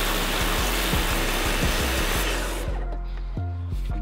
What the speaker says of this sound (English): we're going to use the dirt buster, which actually busts quite a lot of dirt, and see if a pressure washer can remove rust.